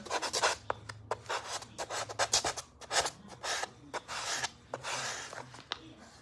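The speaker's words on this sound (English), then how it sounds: "A brown paper bag. Works great for sanding." Rhythmic rasping strokes of sanding with a brown paper bag, a dozen or so quick rubs in bursts, close and crisp with brief pauses between.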